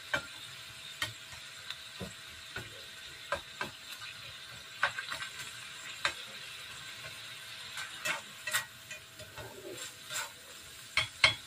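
Potatoes and carrots sizzle in a hot pan under a steady hiss, with frequent scraping and clacking as a utensil stirs them.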